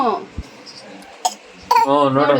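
A child with a mild cough gives a few short, sharp coughs spaced apart, then a nearby adult voice starts talking over them.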